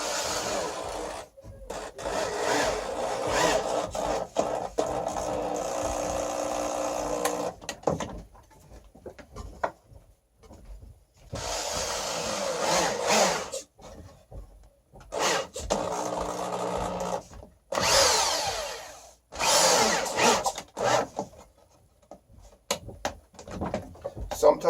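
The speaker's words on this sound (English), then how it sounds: "Sometimes you have to back the drywall screw out and then give it another jolt forward in order to get it to connect very well, to draw tight enough." Power drill driving drywall screws into wood while building a small child's table, several whirring bursts of a few seconds each separated by pauses, close and moderately loud.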